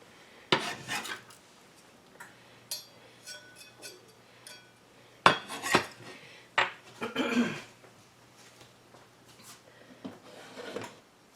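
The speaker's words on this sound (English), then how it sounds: "we're going to use the old pick it up with the knife method" A knife scrapes and clicks against a cutting board while chopped onion is scooped up, a string of close irregular scrapes and taps with a faint steady hum beneath, no speech.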